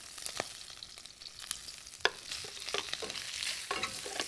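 Shrimp stir-fry in a hot wok with a quiet, soft sizzle, punctuated by a series of spatula scrapes and clanks against the metal, one sharp knock standing out, close but low in level, no voices.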